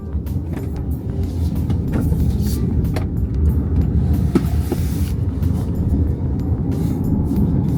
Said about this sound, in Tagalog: Naririnig niyo yung gulong niya, no?